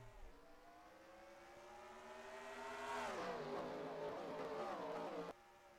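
Race car engines in a CART sim race at Trenton, revving steadily higher as the field pulls away at the green flag, rising pitch with layered harmonic whine, loud and sustained before cutting off abruptly.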